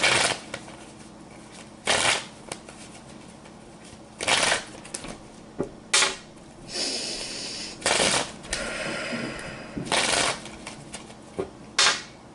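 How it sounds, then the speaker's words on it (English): Tarot cards are shuffled in quick riffling bursts about every two seconds, close and crisp against a quiet room. "let's give it a couple of shuffles"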